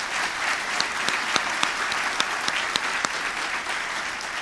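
An audience at a military induction ceremony in Glendale, Arizona claps steadily for several seconds, a moderate wash of applause with a few sharper individual claps standing out.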